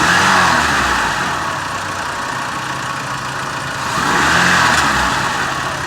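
A Chrysler PT Cruiser engine runs steadily at idle, a loud continuous mid-pitched hum with a slight rise in revs near the start and again toward the end, with no voices over it.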